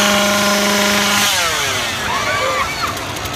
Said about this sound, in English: That's what happens when you get on top of cars and the zombies with chainsaws.